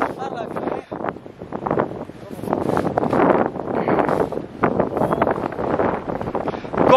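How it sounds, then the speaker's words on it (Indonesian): Strong wind buffets the microphone steadily on the summit of Mount Gede, reached via the Putri trail, roaring and gusting throughout while people talk and shout over it. "Gokil anginnya."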